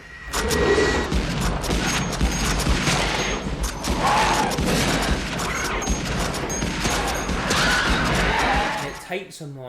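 Rapid assault rifle gunfire from the science-fiction war film Starship Troopers, loud sustained bursts of automatic fire mixed with explosions and screeching battle noise, with voices shouting over the fighting.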